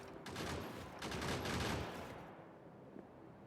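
Ship guns in a space exploration video game fire in a dense, continuous volley of rapid shots for about two seconds, then trail off into quieter rumble with no talking.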